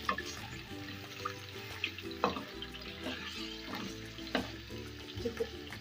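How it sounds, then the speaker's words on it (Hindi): Chicken frying in hot oil left from cooking onions for a wedding-style badami korma, a steady close sizzle and crackle with occasional stirring clinks, fairly quiet. "अब इसी ऑयल के अंदर हम अपनी चिकन शामिल कर देंगे"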